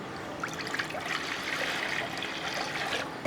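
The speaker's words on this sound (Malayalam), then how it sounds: "ഒരു ചട്ടിയോ വേറെ ഏതെങ്കിലും ഒരു പാത്രം അടുപ്പത്തിട്ട് വെച്ച് കുറച്ച് വെള്ളം അങ്ങോട്ട് ഒഴിച്ചു കൊടുക്കുക" Water poured into a cooking pot set on a stove, a steady trickling, splashing flow lasting the whole moment, close and fairly loud with no voices.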